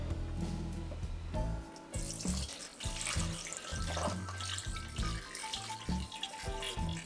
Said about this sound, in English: We're not going to cook our meat by pouring this brine in here.